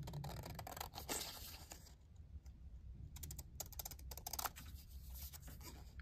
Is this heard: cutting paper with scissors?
yes